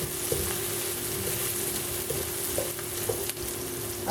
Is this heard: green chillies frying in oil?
yes